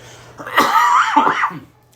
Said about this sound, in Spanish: me dio la tos